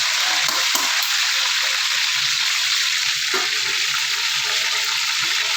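Chicken frying in hot oil gives a loud, dense, steady hiss and crackle, close up, with a few brief bumps and no speech.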